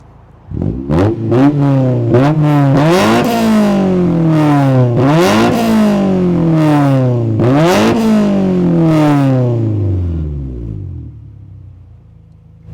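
A Honda DC2 Integra Type R engine with a Spoon exhaust revs hard in repeated bursts, pitch climbing and falling with each blip of the throttle, loud and close, then settling to a low idle.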